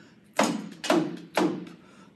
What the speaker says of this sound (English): A rabbit who makes a thump, thump, thump sound when he's hopping along.